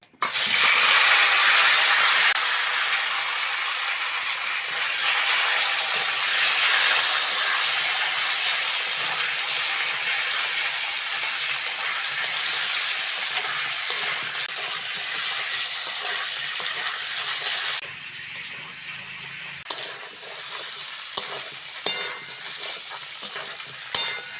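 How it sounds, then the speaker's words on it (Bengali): Turmeric-coated green banana and potato fry in oil with panch phoron, a loud steady sizzle under repeated stirring scrapes that softens after about eighteen seconds into quieter crackles and occasional clatters. "ওই তেলের মধ্যে পাঁচ ফোড়ন ফোড়ন দিয়ে দেবো সঙ্গে দেবো হলুদ মাখানো কলা আর আলুটা"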